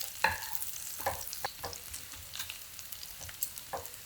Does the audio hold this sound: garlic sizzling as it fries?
yes